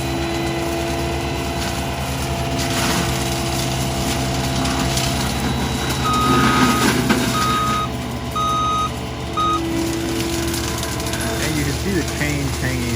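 A Fecon Bull Hog forestry mulcher drones and rumbles steadily while clearing trees, a reversing beeper chirping in short repeated bursts; a voice speaks briefly over the engine noise.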